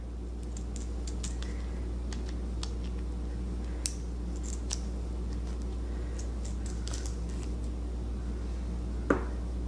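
Scissors trim clear tape around paper sealed for resin jewelry, giving soft, scattered snips and small clicks over a quiet background hum, with one sharper snip near the end.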